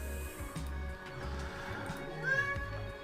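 A cat meows indoors in a few short calls, mixed in with someone speaking and some background noise.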